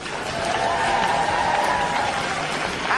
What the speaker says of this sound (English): keep that applause going, please